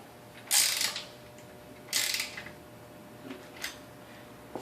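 A ratchet tightens bolts on a pressure washer pump in two sharp, close bursts of rapid clicking, followed by a few fainter single ticks.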